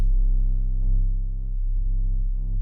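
A synthesized sub bass tone, a deep, smooth, steady hum with a slight wobble in pitch, held alone for a couple of seconds.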